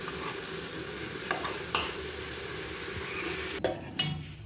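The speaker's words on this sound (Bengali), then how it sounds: "আজ আমি ফ্রাইং প্যানে শাক করছি।" Red amaranth greens are stir-fried in a frying pan, with a steady sizzle under repeated spatula scrapes and stirring knocks, close and moderately loud.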